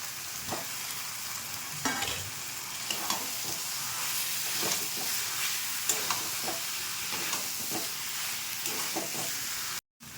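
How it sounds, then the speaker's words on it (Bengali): Potatoes being sautéed into a cabbage curry in a pan, giving a continuous sizzle with repeated stirring scrapes at an even pace, close up, cutting off abruptly at the end. "আলুটা দিয়ে অনেকক্ষণ আমি একটু কষিয়ে নিয়েছি"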